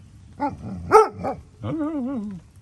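A farm dog barking: three quick, sharp barks followed by a longer, drawn-out whining howl, close and fairly loud with no talk.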